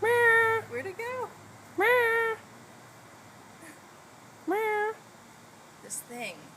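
A cat meows repeatedly at close range, several clear drawn-out meows separated by short pauses, with a couple of brief softer chirps.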